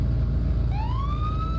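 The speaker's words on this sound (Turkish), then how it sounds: "Evet, sireni açabiliyoruz arkadaşlar." Police car siren from a police driving video game switching on and rising into a steady wail, loud over a constant low engine rumble.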